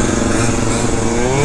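A Honda Dio Elite scooter with a modified exhaust pipe rides past at a street riding spot, its small two-stroke engine buzzing loud, harsh and steady throughout.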